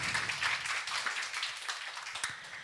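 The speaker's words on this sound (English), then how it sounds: "Round of applause for the team." An audience claps for an event's organizing team, a soft, steady wash of applause that sounds fairly distant and continues throughout.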